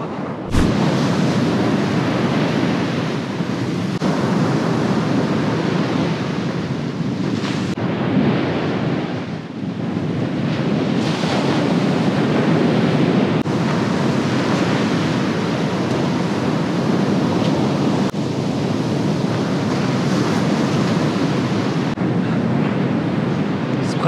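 Sea waves breaking on the Ligurian coast, a loud, continuous roar of surf with rolling swells and heavy wind buffeting the microphone, no voices.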